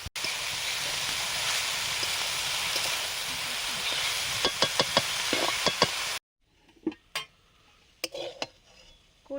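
Kori shak greens land on eggplant already frying in mustard oil with nigella seeds and onion. A dense, close sizzle runs with spatula knocks, then stops sharply, leaving sparse scraping clatters against the pan.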